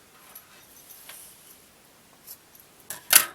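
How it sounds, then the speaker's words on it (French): Cord for a homemade bird toy being cut: a few faint, quiet snips near the start, then one sharper, louder, close snip near the end, over a very quiet background. "Donc moi je vais couper et brûler l'extrémité."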